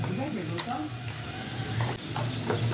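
Spinach and chillies frying in a pan, an even sizzle with a few stirring scrapes, close by and continuous with no talking.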